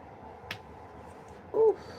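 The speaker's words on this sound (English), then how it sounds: "did y'all hear my elbow pop?" A person's elbow joint popping: a single faint, sharp click rises briefly over a quiet room hum, followed a moment later by a short, soft muffled thump.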